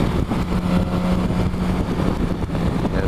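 A BMW S1000XR motorcycle engine drones steadily with a low rumble under heavy wind rush, recorded while riding.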